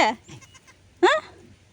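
A mother goat that has just given birth lets out two short bleats, close and loud, separated by a brief pause, with faint background noise.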